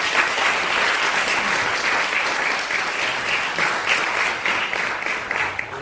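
An audience at a debate in London claps together in a loud, dense burst of applause that holds steady for several seconds without a break.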